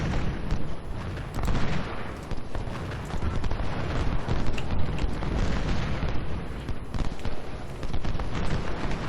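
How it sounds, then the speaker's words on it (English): Grapeshot cannon fire in the Civil War strategy game Ultimate General: Civil War, with heavy booming volleys and crackling bursts rolling continuously and loudly, dense overlapping blasts with no pauses. "That is grape shot, and it is quite effective."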